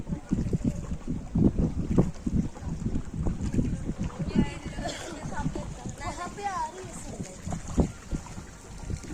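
A boat ride on Dawki lake, with wind buffeting the microphone over a low rumble of the boat and water, while people talk close by throughout.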